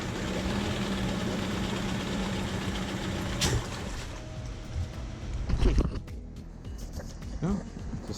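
A salvaged outboard boat motor runs steadily in a test tank, a continuous engine drone with some splashing and knocks toward the end.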